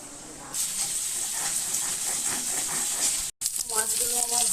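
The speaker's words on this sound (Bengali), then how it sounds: "মাছগুলোকে তেলে দিয়ে দিচ্ছি।" Fish dropped into hot mustard oil in a wok sets off a sudden loud sizzle that settles into a steady, close hiss, broken once by a brief gap.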